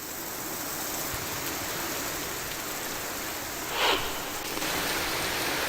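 Heavy returning-monsoon rain falling over Kolad and Roha, heard as a dense, steady broadband hiss with one brief brighter splash partway through and no talking.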